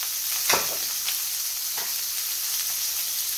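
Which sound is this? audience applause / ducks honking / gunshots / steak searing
steak searing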